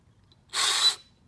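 A power drill spins briefly in reverse during a fifth-grade garden building project, one short whirring burst about half a second long in otherwise quiet surroundings.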